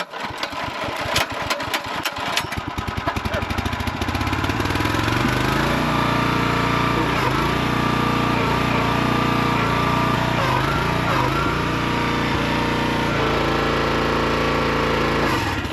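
A small engine sputters and cranks, then catches and settles into a loud, steady running drone that continues close by without pause.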